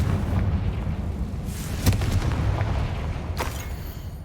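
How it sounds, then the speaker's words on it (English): A Confringo spell explodes in the Hogwarts Legacy video game, giving dense, loud rumbling blasts with a sharp burst near the middle and another crack toward the end. "Confringo!"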